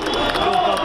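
A crowd of political supporters shouts and cheers as party leaders and a mayoral candidate arrive, a dense, loud wall of mixed voices that stays steady and close throughout.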